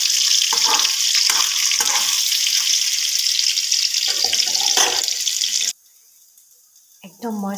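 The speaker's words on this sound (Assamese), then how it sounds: "এফালে পনীৰটো ফ্ৰাই কৰিছোঁ।" Plain paneer frying in a pan gives a strong continuous sizzle that cuts off abruptly near the end, leaving near silence before a short burst of sound returns.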